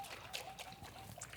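Water trickles from a can into canned tomatoes on low heat for a passata, a faint, uneven pouring dribble that sounds close and quiet, with no talking.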